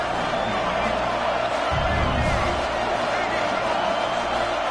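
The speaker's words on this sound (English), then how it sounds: "Crowd trying to help out here on 4th down." A football stadium crowd roars and cheers on a 4th down play in a Virginia Tech game, a dense, steady wall of noise with a swell partway through, under a broadcast commentator's voice.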